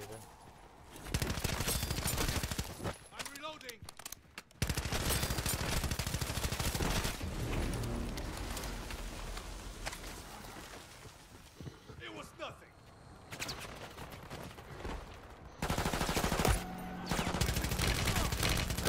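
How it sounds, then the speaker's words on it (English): Rapid gunfire from shooting zombies in a video game, bursts of loud shots crackling over a dense, busy game soundscape for most of the stretch, with brief lulls before the firing resumes. "I'm shooting him."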